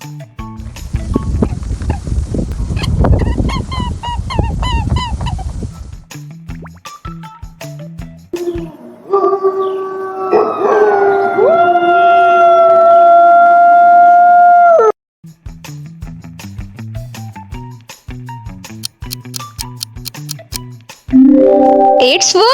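A wolf howls in long, sustained, wavering calls midway through a sequence of other loud animal sounds, with abrupt cuts between them.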